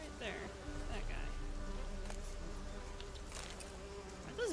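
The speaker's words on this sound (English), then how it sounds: "Are those bees a threat? They keep buzzing at me like they are" Bees buzz in The Witcher 3 with a steady, close insect drone that carries through the whole stretch, and a faint wavering tone rises over it near the start.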